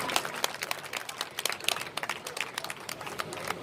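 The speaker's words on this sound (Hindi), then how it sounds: "जोरदार तालियां हमारी विजयलता बहन जी के लिए" A crowd at a hunger strike gathering claps for Vijaylata, a brisk, fairly soft burst of many hands overlapping continuously for a few seconds.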